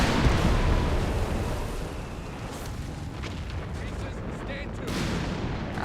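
Mortar rounds in a Company of Heroes 3 battle thud and burst as a dense, rumbling barrage, loud at first and then easing into a steady roar of distant impacts and crackling gunfire.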